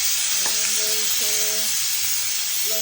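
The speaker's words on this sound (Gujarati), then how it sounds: "લસણ, કાંદા, ટામેટા, આદુ અને લીલી હળદર. આ બધું ફ્રાય કરી અને પછી ગ્રેવી કરવાની" Garlic, onion, tomato, ginger and fresh green turmeric fry in a pan for a gravy, giving a close, constant sizzle with faint brief tones over it.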